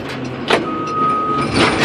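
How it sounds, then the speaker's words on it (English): A Caterpillar D4K2 bulldozer running up close, its engine drone carrying loose metallic rattles and shaking clatter in a continuous, moderately loud wash. "It is a bulldozer, it shakes, it rattles."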